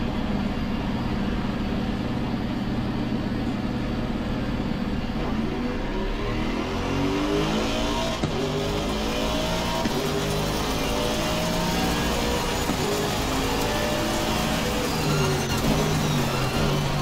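GT3 race cars run at the Barcelona circuit in a racing video game, a loud continuous engine roar with rising and falling gear-shift sweeps as cars race close together, no talking.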